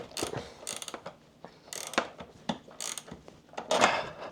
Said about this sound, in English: Ratchet spanner. I want to make sure this is really secured on.